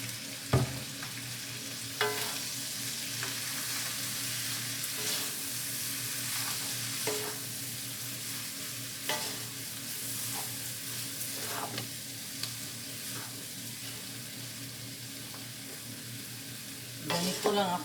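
Pancit noodles stir-fry in a pan with extra oil, a constant dense sizzle carrying periodic scraping and tossing strokes, louder clatter at the very end.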